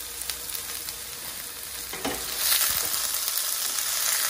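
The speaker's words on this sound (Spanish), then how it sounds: "La cebolla y el ajo se guisan primero" Onion and garlic fry in a pot as the base for a lentil and vegetable soup, giving a steady close sizzle with a few brief stirring scrapes and a slight lift in intensity partway through.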